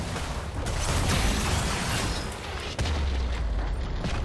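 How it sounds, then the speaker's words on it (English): A turret being destroyed in League of Legends: a loud booming explosion with rumbling, mechanical crunching and a second sharp burst near the end, dense game sound with no talking. "Blue team's turret has been destroyed."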